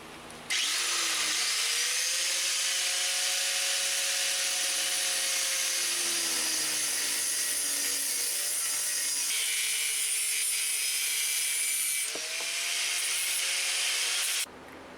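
An angle grinder screams continuously against a steel drift trike frame, a harsh high whine with shifting pitch as the disc bites, cutting off briefly near the end before stopping.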